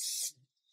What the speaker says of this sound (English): Spray the other side.